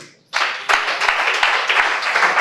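An audience in a church claps loudly after a sudden start, a dense, steady burst of applause from many hands with a few sharp, louder claps standing out.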